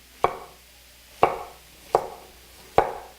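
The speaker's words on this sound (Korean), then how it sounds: "양파 이렇게 한번 썰어보세요." A knife chops through an onion on a cutting board in four sharp, evenly spaced strikes, each with a brief crisp decay, close and clear with no talking. The onion is being cut diagonally into fan-shaped pieces.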